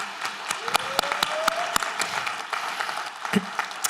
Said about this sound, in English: Let's give our panel one last round of applause.